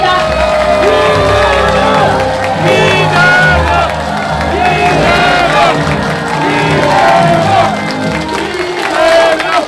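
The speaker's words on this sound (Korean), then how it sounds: "뜨거운 박수 부탁드립니다." Dense rally crowd in Ulsan cheering and applauding as a party leader takes the stage, a loud continuous roar of claps, whoops and shouts with music-like tonal layers running throughout.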